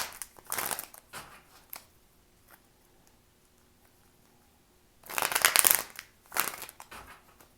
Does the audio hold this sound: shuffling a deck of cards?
yes